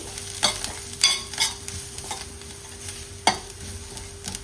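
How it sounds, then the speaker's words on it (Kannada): Masala mixture of turmeric, coriander powder and onion-garlic masala stirred in a pan for a curry: soft scraping strokes recurring every half second or so over a faint steady sizzle, close and moderately loud with no voices. "ಒಮ್ಮೆಲೆ ಇದನ್ನು ಮಿಕ್ಸ್ ಮಾಡಿ"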